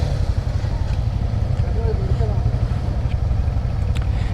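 A vehicle engine idling while it warms up, a steady low throbbing rumble that stays close and constant, with a voice speaking faintly over it.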